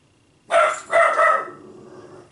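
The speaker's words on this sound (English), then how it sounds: "Of course my dog's going to bark while I'm on the phone." A pet dog barks indoors, three quick close barks, the first on its own and the next two close together, followed by a fading echo in a quiet room.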